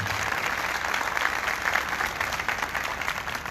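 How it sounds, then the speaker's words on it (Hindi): Church congregation claps for the young girls who served at the altar, dense continuous applause filling the room, loud and sustained for several seconds without anyone speaking. "इनके लिए जोरदार तालियां होती हैं।"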